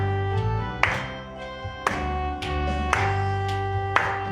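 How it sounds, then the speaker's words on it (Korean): A congregation claps along to a hymn at a Korean church Friday service; sharp, unison claps land about once a second over sustained keyboard accompaniment. "박수 치면서 우리 함께 찬양합니다."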